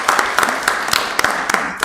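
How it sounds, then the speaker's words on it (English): Audience applause at a council committee meeting, a brief burst of scattered hand claps with distinct individual slaps over a steady clapping wash, fairly close and moderately loud. "Anyway, we'll give her a clap."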